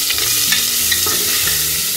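Chopped onion sizzles and fries in a pan of oil while being stirred for bean and bacon stew, a steady loud crackle with scraping stir strokes and no talking.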